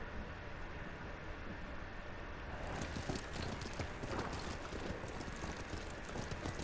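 Horse hooves galloping in Ghost of Tsushima, rhythmic clip-clop beats that grow louder and more distinct midway, over a steady background rush of wind or ambient noise.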